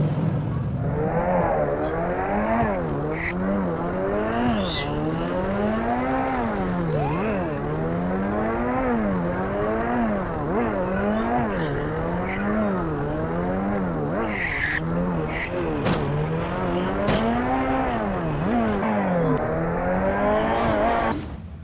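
A car engine in a battle royale video game drones and revs in rising and falling cycles over about twenty seconds, with tires squealing now and then, loud and close without talk.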